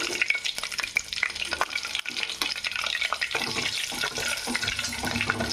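Chopped onions, tomatoes and green chillies frying in a pan, an uneven crackling sizzle with stirring scrapes and brief watery hissing bursts, close and fairly loud, no talking.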